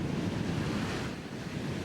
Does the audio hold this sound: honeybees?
no